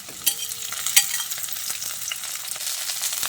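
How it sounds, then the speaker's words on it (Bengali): Chopped okra frying and being stirred with onions in a pan, a steady sizzle broken by sharp scraping clinks of the spatula, with no voices. "ভেন্ডিটা দিয়ে পেঁয়াজের সঙ্গে নেড়ে চেড়ে মিশিয়ে নিয়ে"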